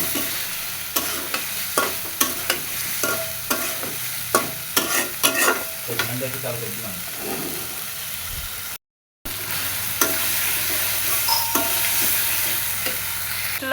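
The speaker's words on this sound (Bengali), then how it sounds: "ভেজে রাখা আলুগুলো দিয়ে দিলাম এটা এখন মশলার সাথে খুব সুন্দর মতো কষায় নেব" Fried potatoes are stirred with spices in a pan, making a steady sizzle under repeated scraping strokes of a spatula that are loud and close, with a brief gap partway through.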